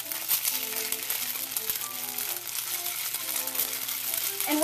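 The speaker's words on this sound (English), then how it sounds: "we'll want to fry these rice cakes until they're nice and crispy and golden brown" Rice cakes fry in hot oil for banh bot chien: a continuous close sizzle with scattered crackling pops at moderate loudness.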